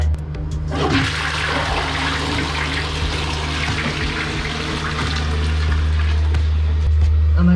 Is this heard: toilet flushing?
yes